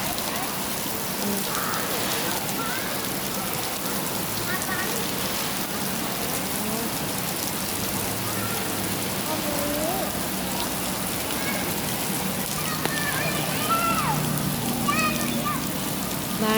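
Rain falls steadily in a continuous dense patter on surfaces, constant and fairly loud, with faint voices and other sounds mixed in at moments.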